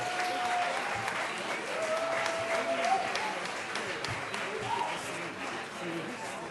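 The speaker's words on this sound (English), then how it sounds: "big round of applause for Devan Sandiford." Warm, sustained applause from a storytelling-night crowd welcoming a storyteller to the stage, a dense steady wash of clapping with a few cheers and whoops rising above it.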